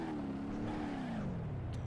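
A 1975 Ford LTD engine drones steadily in the BeamNG.Drive driving game, a continuous loud motor tone whose pitch slowly sinks as the car struggles through a turn.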